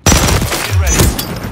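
A burst of loud, close gunfire from Modern Warfare 3 cracks out in a rapid stream of shots lasting over a second.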